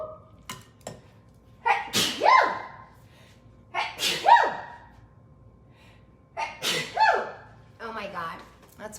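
A person imitates sneezes with the voice, several loud, sharp bursts spaced a second or two apart, close and clear in a quiet kitchen, followed by a short breathy laugh.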